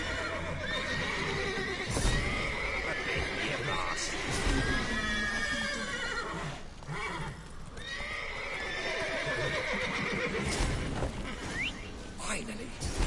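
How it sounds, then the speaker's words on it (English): Horses in The Witcher 3 neigh and whinny repeatedly over clip-clopping hooves and scuffling, loud and close, while someone talks over the commotion. "Gotta calm all the horses before we get to the cards."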